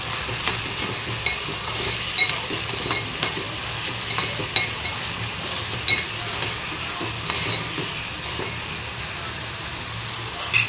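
Green masala paste is stirred in a hot frying pan for a dry clam recipe, giving a loud, continuous sizzle and frying hiss with intermittent spoon scrapes against the pan.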